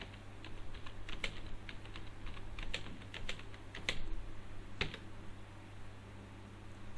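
Computer keyboard typing in an office while a name is entered into a tax form, light scattered keystrokes over a steady low hum, moderately close and fairly quiet.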